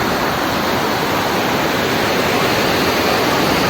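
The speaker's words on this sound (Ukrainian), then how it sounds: "ось така річка, так як багато дощу, річка шумить вовсю" A rain-swollen river in a Costa Rican rainforest rushes loudly and steadily, a dense, unbroken roar of water with no pauses, close at hand.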